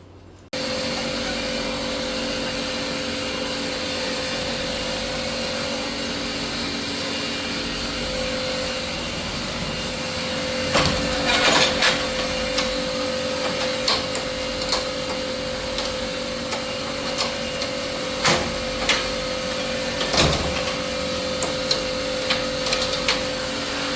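An electric water pump motor runs at home with a loud, steady droning hum that starts abruptly and continues throughout, joined later by scattered clicks and knocks, with no talking.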